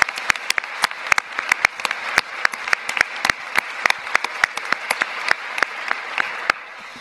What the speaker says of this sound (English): please join me in a round of applause for this workforce